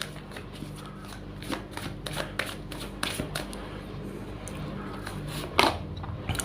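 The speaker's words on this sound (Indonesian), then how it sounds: "Langsung saja saya shuffle kartunya." A deck of tarot cards is shuffled by hand, giving repeated soft riffling and flicking bursts in an irregular rhythm, close and fairly quiet, with one sharper snap near the end and no talking.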